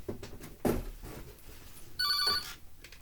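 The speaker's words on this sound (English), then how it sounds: "I truly have not had that phone ring" A telephone ringing, one electronic ring burst about half a second long partway through, amid quiet indoor shuffling and handling noises.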